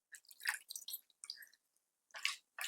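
Someone rinses a face pack off with water, making short wet splashes and squishy rubbing in several quick bursts separated by silent pauses.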